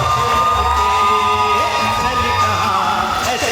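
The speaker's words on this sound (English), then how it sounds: "let's give a big round of applause" Guests at a wedding reception in a community hall cheer and whoop over loud, sustained music, the crowd noise blending with the steady tones rather than standing apart.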